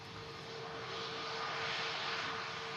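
An Airbus Neo jet airliner at Manchester Airport gives a steady, broad roar that swells slightly over its length, with a faint constant tone running beneath and no talking.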